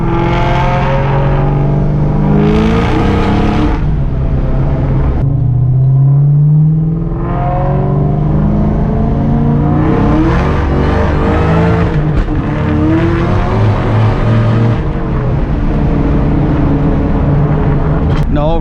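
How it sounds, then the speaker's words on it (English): Loud Shelby Cobra sports car engine revving and shifting through gears, pitch rising and falling as it accelerates, close by, with engine roar dominating throughout. "Right now we're gonna take it out for a drive"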